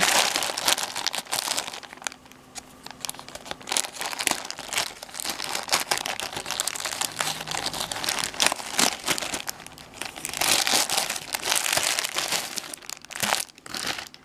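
Plastic wrapping of an AliExpress parcel crinkles and tears as it is opened by hand, with steady close crumpling across the whole stretch, denser bursts near the start and around ten to thirteen seconds, no talking.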